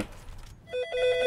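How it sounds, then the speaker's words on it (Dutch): A telephone rings after a brief rumble of indistinct sound: a bright, electronic ring in quick repeated pulses, fairly close and clear. "De telefoon gaat, kan iemand hem opnemen?"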